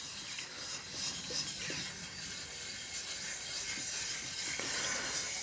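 A Bridgeport milling machine skims a cylinder head on a smooth finishing pass, giving a steady, even hissing cut that runs unbroken at constant loudness with no voices.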